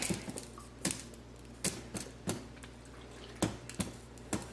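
A little water on the bottom of a hot pot on the stove pops and ticks in faint, irregular clicks with short pauses between them, in a quiet kitchen where pickles are being canned.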